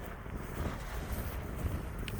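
Steady gusting wind roars across the microphone and fills a sail, a low rumbling buffet, continuous and fairly loud throughout, no voices.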